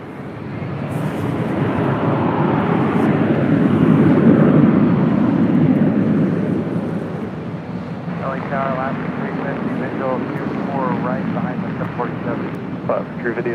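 A jet airliner rolls for takeoff on runway 24 left at LAX, a broad loud roar that peaks and then fades, while an air traffic controller's radio voice talks over it.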